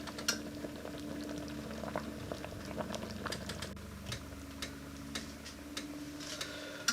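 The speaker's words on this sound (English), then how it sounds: "All the ingredients bubbling away nicely." Tuscan bean soup boils steadily in a pot, with continuous bubbling and irregular popping and ticking of bursting bubbles, close and moderately loud throughout.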